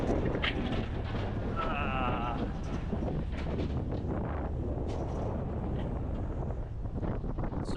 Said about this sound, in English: I don't know how well the GoPro is gonna handle the wind audio, because it's windy out.